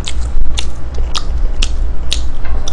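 Biting and chewing a McDonald's McChicken burger, with crisp crunchy bites recurring roughly every half second over a steady low background hum, close and fairly loud.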